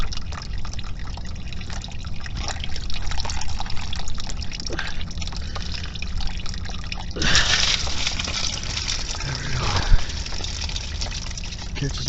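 Coolant water drains and trickles out of a 2003 Subaru Forester radiator, a steady dribble that swells into a louder splashing gush midway through, with someone talking intermittently over it.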